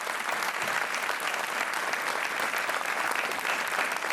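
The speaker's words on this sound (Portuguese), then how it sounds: "Tiago, foi um gosto, um aplauso para o Tiago Sol." Studio audience applause on a Portuguese TV quiz show, a dense, steady burst of clapping from a crowd filling the whole stretch at moderate level with no talk over it.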